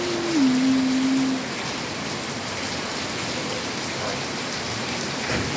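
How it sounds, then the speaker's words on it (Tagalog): Steady rain falls in a dense, even hiss, with a brief low tonal hum near the start and no voices. "Ang ganda yung ulan guys."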